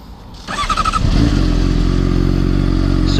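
A 2013 Honda CBR600RR sport bike starts up close by, with a short crank and clatter, then settles into a loud, steady running idle.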